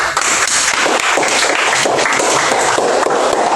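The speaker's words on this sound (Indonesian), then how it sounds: "Tepuk tangan." Steady, dense applause from a classroom of students, filling the whole stretch at a close, even level with no pauses.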